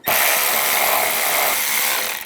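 A 7mm socket loosens a bolt near the intake flange while a mass air flow sensor is replaced on a 2010-2014 Volkswagen GTI. A loud, continuous, harsh whirring tool noise runs close up for about two seconds.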